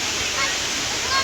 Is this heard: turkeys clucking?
no